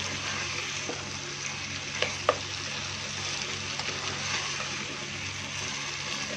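Potatoes, green beans and capsicum with tomato fry in oil, giving a soft, steady sizzle throughout with a couple of faint clinks of stirring.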